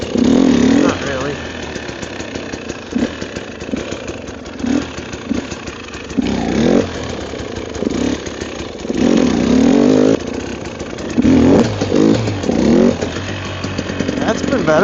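A motorcycle engine revving in uneven surges as the clutch is slipped on snow during slow wheelie practice, rising and falling repeatedly over the idle, close to the microphone.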